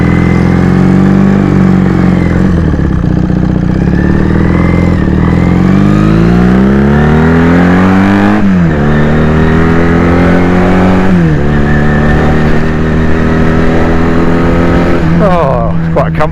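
A 1979 Honda Superdream motorcycle rides along, its engine loud and close, pitch rising through the gears with clear drops at each shift and a steady rumbling drone between.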